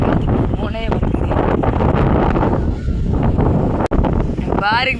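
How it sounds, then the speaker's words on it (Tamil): Gusts of wind batter the microphone outdoors in a village, a constant loud roar with a brief dropout, as voices speak over it. "பார்த்தீங்களா காற்று எப்படி அடிக்குதுண்டு"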